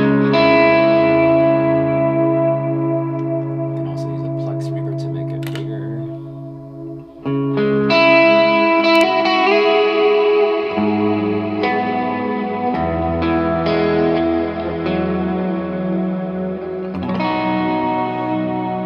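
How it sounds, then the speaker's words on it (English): Sustained electric guitar chords through a Fractal FM9 cloud reverb, washed in thick, shimmering reverb, notes blurring into a lush ambient swell that continues steadily without any voice. "more cloud reverb"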